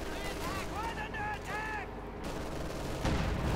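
An M36 Jackson tank destroyer in Company of Heroes 2 fires one heavy, booming shot late in the moment, loud against steady battle noise, with someone talking over the game just before.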